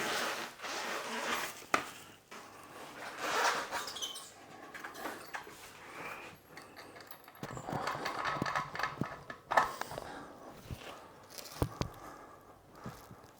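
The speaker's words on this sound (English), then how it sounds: "So let's get the wheel on, or let's try and get it on." Close, quiet handling noises as the front wheel is fitted onto an Engwe E26 e-bike: rustling, scraping and small metallic clicks and knocks, irregular and intermittent, with a few sharper taps and no talking.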